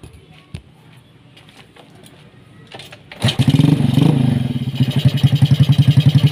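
A Yamaha Jupiter motorcycle, just back together after a clutch repair with new clutch plates and springs, starts after about three seconds of near quiet, then settles into a loud, steady, pulsing idle close by.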